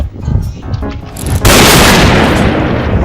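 A sniper rifle fires in the online shooter game Point Blank. Quieter game sounds give way to a loud, sudden boom that rolls on as a sustained, noisy rumble.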